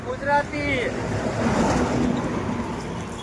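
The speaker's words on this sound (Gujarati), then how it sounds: "આમથી પવન આવે ને એટલે વાળ આઈન પા ઉડી જાય છે" Steady wind rushes and buffets a microphone outdoors, with a brief burst of voices near the start.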